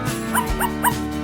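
Several dogs bark and yip in quick succession, close and loud over a steady background hum, with a whimpering quality to some of the calls.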